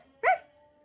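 A robot character voices a single short, gruff imitation of a dog's bark, fairly faint and alone against a quiet background.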